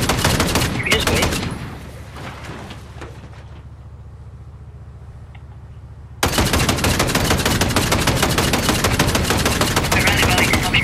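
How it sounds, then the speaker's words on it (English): Gunfire in the Fortnite video game: loud bursts of rapid automatic shots crackle up close, drop away into a quieter lull, then resume as dense sustained firing to the end. "Stop shooting, stop shooting."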